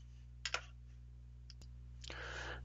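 Computer keyboard keys click in a few quick, soft, close taps during typing of a command, with a brief burst of clicks near the end over a low steady hum.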